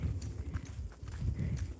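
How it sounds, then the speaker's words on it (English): A horse's hooves clip-clop at a steady walking rhythm while being ridden outdoors in Colorado, close and fairly loud, with a few dull irregular thuds and no speech. "today I'm out here in beautiful Colorado with my horse Rappy."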